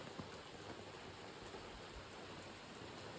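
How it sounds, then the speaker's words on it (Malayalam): Heavy rain falling outside, a steady dense hiss of drops at low, even volume with no talking. "പുറത്ത് നല്ല മഴയാണ്, പുറത്ത് അടിപൊളി മഴയാണ്."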